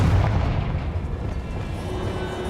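A Confringo blasting spell explodes in Hogwarts Legacy, a heavy low boom that bursts at the start and rolls out into a sustained rumbling decay.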